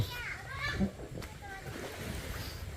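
Water splashing as children bathe outdoors, with irregular splashes and sloshing close by, mixed with the chatter and voices of children and adults talking throughout.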